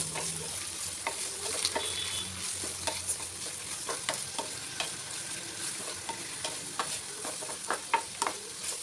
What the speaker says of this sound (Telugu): ఉల్లిపాయ ముక్కలు, పచ్చిమిర్చి, కరివేపాకు వేసి వేయించుకోవాలి